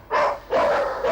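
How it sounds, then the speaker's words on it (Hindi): Dogs outside bark twice in quick succession, loud and close, each bark full and slightly ringing. "बाहर कुत्ते किसी पर टूट पड़े।"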